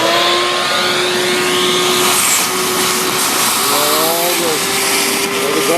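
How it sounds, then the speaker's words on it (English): A wet/dry shop vac runs steadily throughout, a loud continuous motor whine and airflow roar with a few pitch shifts as debris is sucked up while cleaning an air handler; no one speaks. "get my wet dry vac here"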